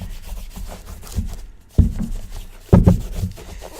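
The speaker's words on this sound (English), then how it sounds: "But the conditioner smells kind of bad. You don't want to overdo it. Just rub it over with your hand." A hand rubs leather conditioner over a leather shoe, making close, scratchy brushing strokes in an uneven rhythm, with two heavier swipes near the end.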